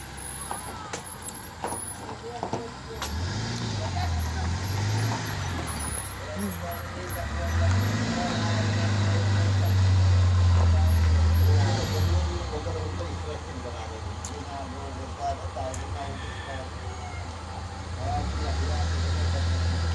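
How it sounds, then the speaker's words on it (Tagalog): A truck with air brakes rumbles past in a rural provincial setting, its low engine drone swelling to a loud peak mid-clip before fading, with brake hisses and background voices and noise throughout. "Ay, may sasakyan."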